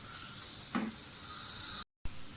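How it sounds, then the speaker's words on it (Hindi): Eggs and onions frying in oil for a salan, a steady close sizzle with one brief stirring scrape midway. "बस थोड़ा सा और इसको भूनें"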